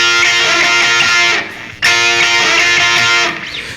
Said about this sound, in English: So the double stop bend is used in the beginning and sounds like this.